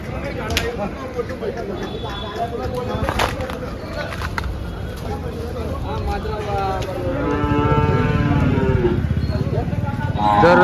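A Gir cow lowers a long mooing call at a busy cattle market, heard near and loud late in the stretch over a constant crowd murmur and general market bustle.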